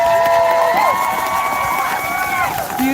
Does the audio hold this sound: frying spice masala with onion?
no